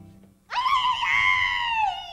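A woman's high, drawn-out scream, a characteristic character scream from a live radio drama performance, rises abruptly after a brief quiet and holds loud and wavering for under two seconds before trailing off.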